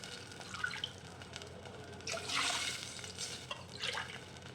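Water pours into a pan of roasted semolina for upma in a few short splashing bursts, fairly close, with a faint steady background hiss and no voices.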